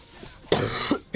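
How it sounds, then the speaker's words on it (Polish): A single harsh cough bursts out close to the microphone, with a short catch of breath before and after it. "ten kaszel mnie dobija"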